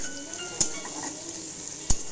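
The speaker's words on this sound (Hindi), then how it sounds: "इसमें हम प्याज डाल देते हैं।" Finely chopped onions cooking in hot oil for an egg and potato curry: a continuous sizzle with two distinct clinks of a spoon against the pan as they are stirred.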